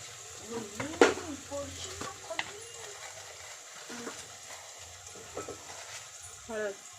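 Spoon stirring browned onion with masala and half a spoon of turmeric in a pan, soft scraping and light sizzling with a few clinks, a voice talking over it.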